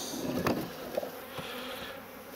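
Honeybees buzzing around a beehive, a soft continuous drone of many insects close by with a few louder passes, and no talk over it.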